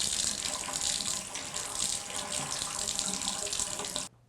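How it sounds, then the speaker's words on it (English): Water drains from the shower pipes and gushes from the faucet of a Moen tub and shower in a loud, continuous close-up stream that stops abruptly near the end. "we need to release all of the water that's in the pipes behind here"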